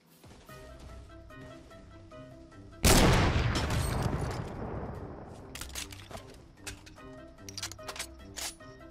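Gunfire from a ray gun in the Fortnite Battle Royale video game: a sudden loud blast erupts partway through, followed by a decaying rumble and a scattering of sharp, repeated shot cracks over game music.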